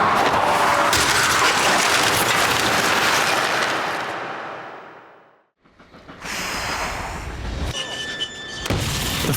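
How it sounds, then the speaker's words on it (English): A remote-controlled Ford Focus crash test impact: a loud, sustained crunching roar that fades to near silence, then a second burst of clattering, grinding debris. "The Focus is obliterated on impact."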